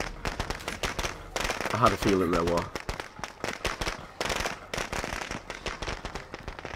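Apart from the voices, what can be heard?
firecracker exploding in State of Decay 2 video game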